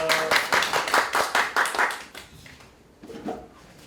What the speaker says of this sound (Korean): 뜨거운 박수로 환영해 주시길 부탁드리겠습니다